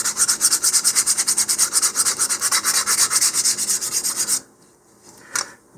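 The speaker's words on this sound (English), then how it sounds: "In this case, I've got it on a sanding tee rather than a sanding block," Fine 320-grit sandpaper on a sanding tee rubs back and forth over a balsa model rocket fin, a steady rhythmic scratching of rapid even strokes close up, stopping near the end with a couple of faint scrapes.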